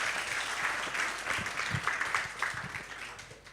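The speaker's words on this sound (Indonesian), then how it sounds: "Tepuk tangan untuk kita semua." An audience claps together at an anniversary celebration for Swargaloka, a lively patter of many hands that stays moderately loud, then tapers slightly toward the end.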